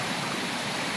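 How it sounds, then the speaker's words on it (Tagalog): A river current rushes past in a steady, dense wash of flowing water, close and continuous for a brief moment with no voices. "Maririnig lang natin yung agos ng tubig ng ilog"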